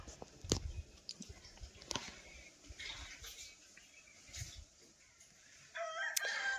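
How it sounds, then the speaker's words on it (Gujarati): A rooster crows faintly in the distance, with soft rustling and scattered small knocks in a quiet outdoor setting. "કુકડાનો અવાજ"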